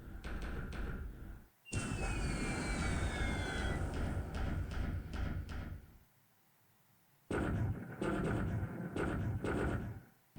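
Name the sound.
torpedo bomber aircraft attacking ships in War in the Pacific video game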